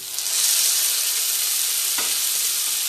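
Tomatoes tipped into a pan of frying onion, garlic, chili and grated ginger for a Bengali-style rajma curry, raising a loud, steady sizzle that holds evenly throughout with a faint clink near the end, no voices.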